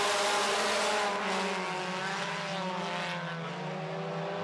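Four-cylinder stock race cars roar past at a dirt-track heat race, a loud sustained engine drone with shifting pitch as the pack passes close by.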